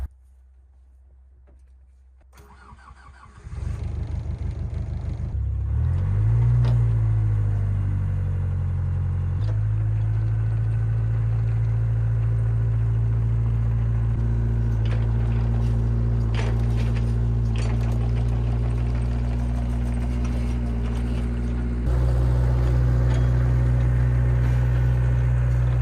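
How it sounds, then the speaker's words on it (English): A new excavator's engine cranks and fires after a quiet start, then settles into a loud, steady idling drone with a brief rev and a step up in speed near the end. "So I got a new excavator."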